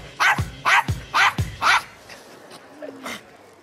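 A Yorkshire Terrier lets out four sharp, loud barks in quick succession, nearby, and then a few softer yips and whines.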